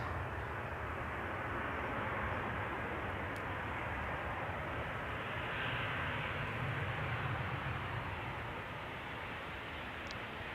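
A KLM airliner arriving at Amsterdam Schiphol from Copenhagen on a warm sunny day makes a faint, distant, steady engine rumble, with even broadband noise lasting the whole stretch and no talking.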